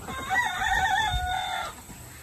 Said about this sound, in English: We're moving chickens.